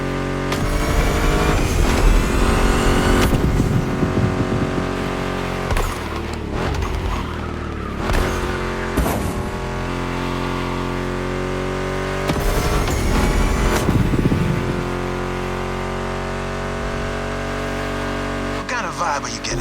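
Ford Mustang GT muscle car in a racing video game revs and accelerates hard with tire squeal in spots, loud and steady, with someone talking over the engine throughout.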